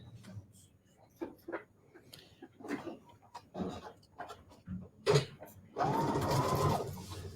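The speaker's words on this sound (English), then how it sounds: "So I'm sewing." Sewing machine stitching a paper-pieced maple leaf quilt block, a steady close whirring run that starts near the end, after stretches of people talking nearby.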